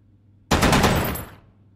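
A single sharp gunshot from a firearm in the VR shooter H3VR cracks loudly and close, then rings out in a decaying tail of about a second.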